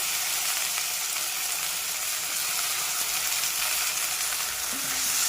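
Raw potato, peanuts and chili sautéing in ghee make a steady, close sizzling hiss throughout, with no talking.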